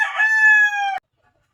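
A rooster crows once, loud and close, a long drawn-out call that cuts off sharply, followed by silence.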